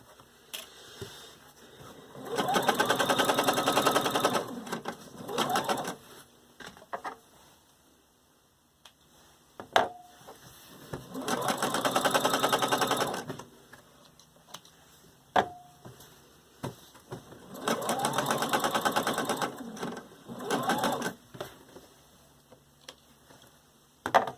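A sewing machine basting fabric runs in three long bursts of steady rapid stitching, each several seconds long, separated by quiet pauses with occasional small clicks as the fabric is repositioned.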